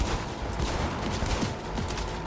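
Dense, continuous bursts of rapid gunfire in the video game Cyberpunk 2077, loud and close, with no voices.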